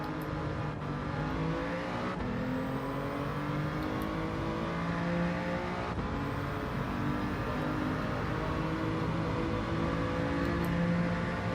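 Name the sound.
race car engine, Gran Turismo video game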